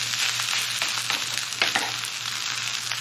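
Garlic fried rice with Spam and bacon frying in a pan, a continuous close sizzle with a few faint scrapes and a low steady hum beneath.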